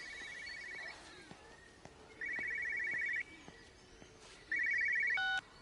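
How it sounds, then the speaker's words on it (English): An old-style telephone rings in Everybody's Gone to the Rapture, three bursts of ringing spaced about a second apart, moderately loud over a quiet outdoor game ambience. "You can hear a phone."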